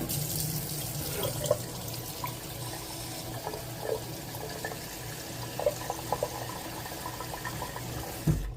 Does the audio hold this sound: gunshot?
no